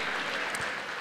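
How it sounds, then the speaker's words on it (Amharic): Brief, steady applause from a church congregation, a dense even clatter of many hands heard alone for about a second. "ተነስቁምና ለእግዚአብሔር ክብር አጨብጭቡ"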